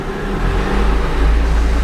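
Mazda 626 engine held at a steady 2000 RPM during a transmission diagnostic test, a loud, close, continuous hum with no talking.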